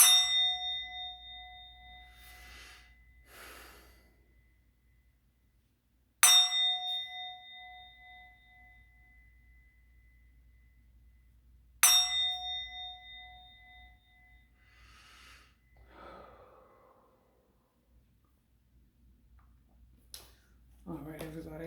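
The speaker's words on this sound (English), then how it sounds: "All right, I'm going to ring the bell." A bell is struck three times at even intervals, each clear metallic ring fading out slowly before the next, with quiet rustling in between and a voice starting at the end.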